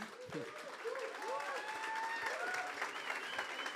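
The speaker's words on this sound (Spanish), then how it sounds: "Un aplauso para Brenda, por favor" Applause and cheering from the audience at a Fvckup Nights money edition event in Mexico City, fairly faint crowd clapping with whoops and shouted voices rising over it.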